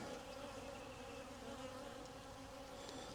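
A colony of honeybees at an open hive drones in a continuous close buzz, unbroken and even, no talking heard.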